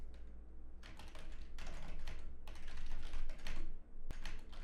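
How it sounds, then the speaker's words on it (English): Steady bursts of fast keystrokes on a computer keyboard while coding, clattering close and clear in uneven runs with brief pauses, no voices. "I type it like this"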